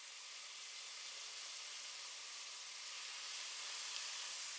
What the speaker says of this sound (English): Add the marinated beef cubes to the oil one by one and allow them to sizzle